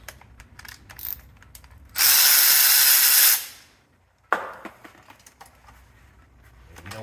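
A power tool runs in one loud sustained burst of about a second and a half while removing bracket bolts on a Lexus ISF during transmission service, framed by lighter mechanical clicks and clatter before and after, with a pause of near silence.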